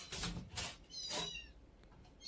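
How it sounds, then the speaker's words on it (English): A cat meows several times in quick, drawn-out cries, fairly faint and slightly distant, as if from inside a wall, with no speech over it. "I hear the cat."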